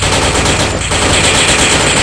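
Loud, dense gunfire from a video game, a rapid continuous burst of shots with a brief dip partway through.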